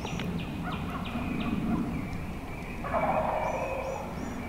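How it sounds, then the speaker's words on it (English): A wild turkey gobbles in Illinois woods, a couple of rattling gobbles at moderate distance, with other bird calls and chirps scattered around in the open outdoor air. "the one we hear gobbling"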